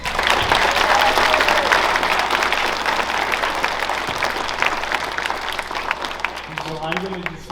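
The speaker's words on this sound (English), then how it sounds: "One more round of applause for the veterans." A school audience at a Veterans Day program applauds the veterans, a full roomful of clapping loudest at the start and gradually thinning, with a voice starting to speak as the clapping fades.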